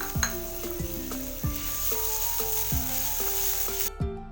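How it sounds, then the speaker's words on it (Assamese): Steady oil sizzle with ginger, cumin, chilli and coriander frying, broken by a few soft clinks and stirring scrapes of a utensil against the pan. "আদাখিনি অলপমান ভাজি লৈছোঁ"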